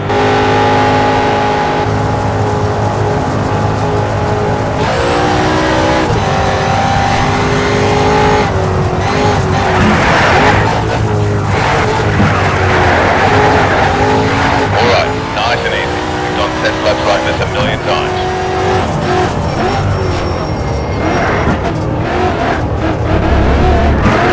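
Race car lapping a track in the video game Need for Speed: Shift: loud engine revving up and down through gear changes, with tire squeal and skidding, continuous and close throughout.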